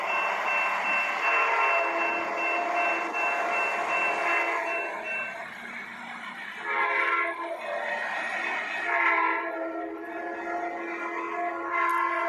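Toy train signal sounding its horn-like tone continuously and loudly for about twelve seconds, with steady layered pitches that dip and swell briefly, no voices.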